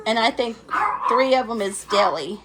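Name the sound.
dogs barking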